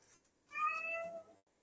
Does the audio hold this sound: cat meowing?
yes